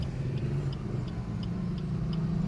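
A car turning during a driving lesson, its engine a steady low rumble from inside the cabin with a regular soft ticking, likely the turn signal, repeating every fraction of a second.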